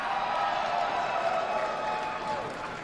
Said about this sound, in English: Great ovation from the Oklahoma City crowd here for Dalton Castle